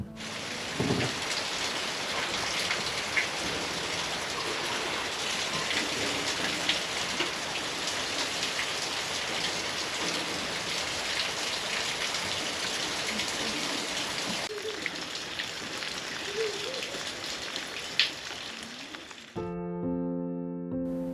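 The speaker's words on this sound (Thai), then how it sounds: "เม็ดฝนเล็กๆ ที่กำลังร่วงหล่น ลงไปบนใบข้าว และเริ่มแรงขึ้น" Rain falls on rice plants at a rural farmstay, a steady, dense patter and hiss that carries on for a long stretch before a brief musical tone enters near the end.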